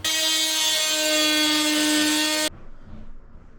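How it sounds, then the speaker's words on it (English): Power saw cutting a notch into a brand-new bathtub so it fits around a 2x4 stud during a bathroom install, a loud steady whine for about two and a half seconds that stops abruptly, followed by faint low rumbling. "Cutting that notch out to fit around that 2x4. On a brand new bathtub."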